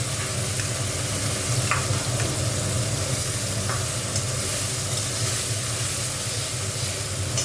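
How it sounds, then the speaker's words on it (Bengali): Chopped onions fry in hot oil in a pan for a Bengali fish kalia, giving a continuous loud sizzle and hiss with occasional scraping stirs, steady and close throughout. "পেঁয়াজ কুচি দিয়ে দিলাম"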